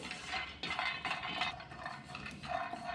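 Peanuts roasting in a pan for Maharashtrian masvadi, with steady rustling, scraping and clinking of nuts and a utensil against the metal, fairly close, continuous with small bursts, no talk.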